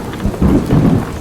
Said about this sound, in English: It keeps raining on and off